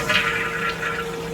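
A toilet tank fitted with a Korky Anti Siphon 528 fill valve flushes close by, a steady rush of draining water filling the whole moment with no talking.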